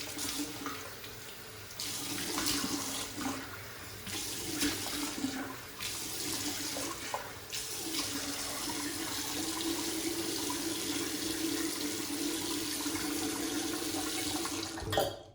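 Cold tap water runs into a sink while a face is rinsed after a shave, a steady close splashing that shifts in pitch as hands cup and splash the water, then stops abruptly at the end.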